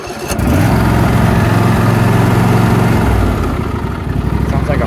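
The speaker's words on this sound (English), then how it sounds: "So let's start it up and test it out." A Husqvarna YTH22V42 riding mower engine cranks briefly, then catches and settles into a loud, steady, rumbling idle close by.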